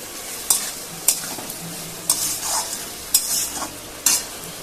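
Potatoes fry in a spice masala while a spoon stirs them, with a soft continuous sizzle broken by five sharp scraping strokes against the pan at regular intervals, close and clear, no talking.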